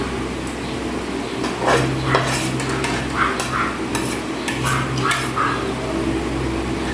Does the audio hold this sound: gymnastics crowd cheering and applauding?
no